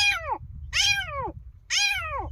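An elderly man imitating a cat, voicing three distinct drawn-out meows, each sliding up and then down in pitch, with short gaps between them. The voice is loud and close, over a faint low background hum.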